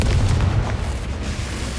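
A Confringo fire spell bursts in Hogwarts Legacy, a continuous low rumbling boom that stays loud and dense for the whole stretch, with no clear separate blasts.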